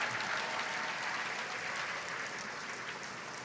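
Large convention audience in Boston applauding, a broad, even wash of clapping that stays steady and slowly fades slightly, heard alone at a distance.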